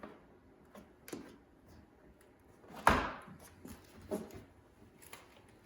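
Plastic retaining clips popping loose from a Subaru STI door card, a few sharp clicks and snaps spread out, with one loud crack near the middle standing out over a quiet background.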